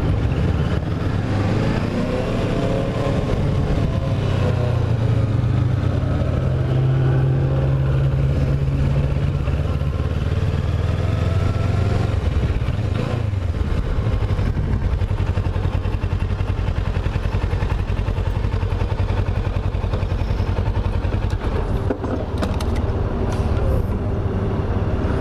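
A motorcycle ridden on roads around Baytown, Texas, gives a continuous low engine drone buried under heavy wind buffeting that stays loud and steady from start to finish.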